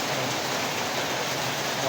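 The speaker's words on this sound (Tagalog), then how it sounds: "Walang tigil ang ulan." Steady downpour in stormy typhoon weather, a constant wide wash of rain noise at an even loudness, rising slightly at the very end.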